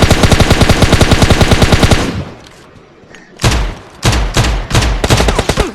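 Rapid automatic fire from an M4 rifle in a battle royale shooting game, a long loud close burst of evenly spaced shots followed by a short lull and then several more sharp bursts.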